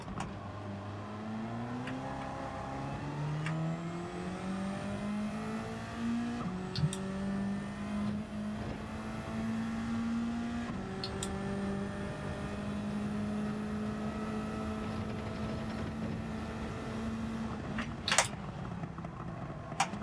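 A race car in Gran Turismo at Suzuka runs flat out, its engine note climbing and holding in long revving pulls broken by gear shifts and brief lifts, loud and continuous without talk.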